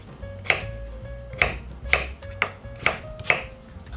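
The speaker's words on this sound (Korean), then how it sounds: "이렇게 깍둑썰기로 썰어 주세요" A knife dices peeled potatoes on a cutting board with six crisp, evenly spaced chops. Each stroke lands close and clear over a quiet kitchen background.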